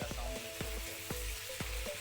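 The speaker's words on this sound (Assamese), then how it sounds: "চিকেনখিনি উতলিছে" Chicken cooking in water in a pressure cooker pot, bubbling steadily at close range with a dense sizzling hiss and repeated soft low pops recurring about every half second.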